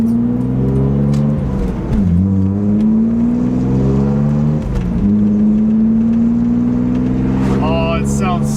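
BMW E36 325i with a muffler-deleted exhaust revving under a bridge, several loud rising and falling engine pulls with a raspy drone, recorded close, with people talking over it.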